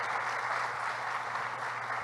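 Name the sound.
applause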